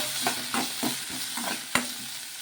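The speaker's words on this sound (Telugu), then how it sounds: "అలాగే చిన్నగా కట్ చేసి పెట్టుకున్న చిన్న అల్లం ముక్కలు వేసుకొని ఈ పచ్చిమిర్చి అన్నీ వేగే వరకు వేయించేసుకోవాలి" Green chillies, garlic, cumin and ginger frying in a pan, with repeated stirring scrapes every half second or so over a steady close sizzle, no voices.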